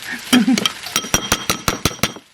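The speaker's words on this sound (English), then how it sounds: "I'm gonna put it in the sauce, yeah. And then I can just stir it together." Yakisoba noodles being stirred into sauce in a home kitchen, giving a run of close, crisp clinks and scrapes of a utensil against the pan in an uneven rhythm, mostly alone.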